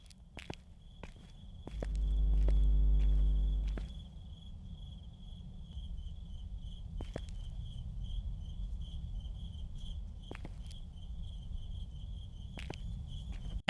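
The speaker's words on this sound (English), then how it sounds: "The near empty lot, crickets chirping, buzzing of the lights near each store" Crickets chirp steadily at night outside a near-empty shopping plaza lot in a horror video game, a faint continuous high trill with scattered footsteps and a brief low hum.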